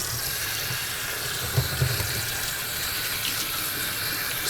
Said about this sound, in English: Wash my hands. I did just handle the turkey. So again, hot water,